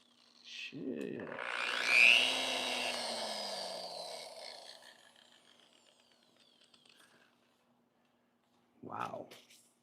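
A polisher spins up with a loud, whirring burst, holds a steady hum, then fades and winds down over several seconds. Another short sound follows near the end.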